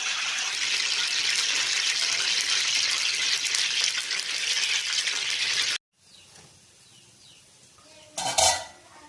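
Gulab jamun balls frying in hot oil give a dense, steady sizzle for about six seconds. It cuts off abruptly to a quieter background, with a short clatter near the end.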